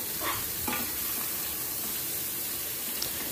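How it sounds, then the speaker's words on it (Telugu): Cut raw banana pieces for a banana curry being stirred in a pan, giving soft scraping strokes over a faint steady sizzle, close and fairly quiet with no talking. "ఇప్పుడు ఈ ముక్కల్ని మంచిగా కలుపుకుంటే ముక్కలు విడిపోతాయి చక్కగా"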